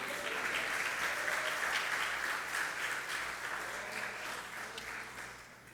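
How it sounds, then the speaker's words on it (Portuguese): A church congregation claps during a Portuguese-language sermon, a sustained wash of many hands clapping that stays even and slightly distant before gradually thinning toward the end. "Você pode aplaudir o Senhor Jesus?"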